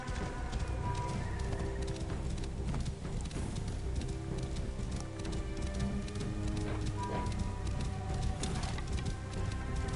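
A horse in Assassin's Creed Origins clops along at a steady running rhythm, with faint bird calls and outdoor ambience behind the hoofbeats and no voices over it.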